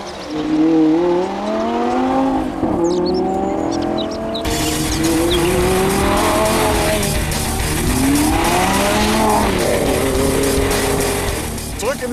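A Lamborghini Gallardo Performante sports car drives by with a loud, close engine note that rises and falls through several gear changes and revs, while voices talk underneath.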